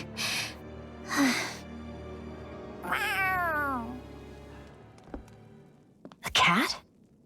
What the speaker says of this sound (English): A cat? Where'd it come from?